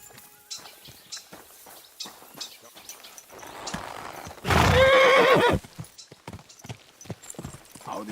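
Horse in the medieval game Kingdom Come: Deliverance II, hooves clip-clopping in steady steps with a loud, near whinny bursting out midway, then the walking continues.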